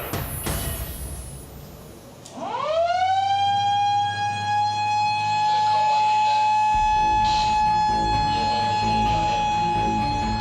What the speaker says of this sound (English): Can I put the siren on?